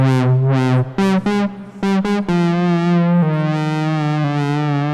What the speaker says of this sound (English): how good distortion sounds, because you get a lot of changes in loudness